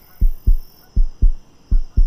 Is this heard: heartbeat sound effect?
yes